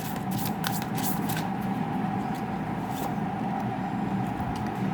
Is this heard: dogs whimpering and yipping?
no